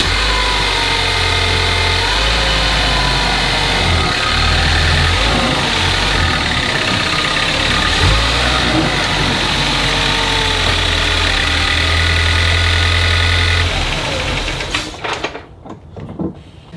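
A car engine with a suspected air leak in the intercooler piping idles loud and close in a steady, even drone, then cuts away near the end with no talking.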